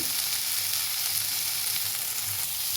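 Curry spices frying in oil give a steady, dense sizzle with constant hissing crackle throughout and no voices.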